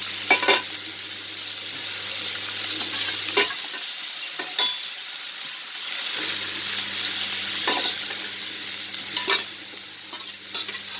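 Dried anchovy fish sizzles and fries in hot coconut oil in a pan, a constant crackling hiss broken by repeated sharp scrapes and knocks of stirring, close and fairly loud.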